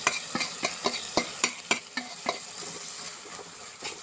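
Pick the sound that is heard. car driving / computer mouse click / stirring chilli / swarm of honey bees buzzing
stirring chilli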